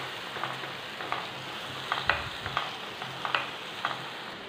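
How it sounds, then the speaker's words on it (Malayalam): Chicken with garam masala frying in a pan, stirred with steady scraping strokes over a soft continuous sizzle; the strokes come at a roughly even rhythm, close and moderately quiet, with no voices. "ഇനി ഞാൻ ഇതൊന്ന് മിക്സ് ചെയ്യുകയാണ്."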